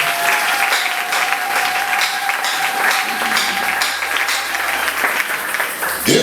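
A church congregation applauds the Lord with sustained, dense clapping filling the room, loud and steady throughout with faint voices mixed in.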